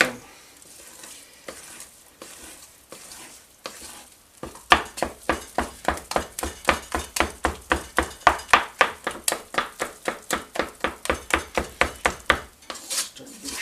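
A spoon stirs thick chocolate marshmallow fudge in a pot, the scrapes coming quick and regular and close, each stroke loud against soft sizzling, with a quieter stretch before the steady rhythm starts.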